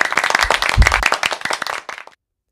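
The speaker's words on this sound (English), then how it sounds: "Everybody clap your hands." Hand clapping from a preschool storytime group, a burst of quick uneven claps with a few low thumps near the start, close and fairly loud, stopping abruptly before a short silence.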